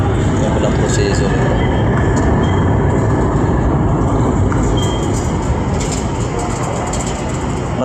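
An LRT light rail train rumbles along continuously at close range, a loud steady roar of wheels and carriage noise with faint squeals throughout.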